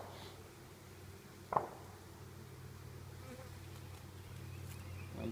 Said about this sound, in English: This next frame does have a lot of bees on as well.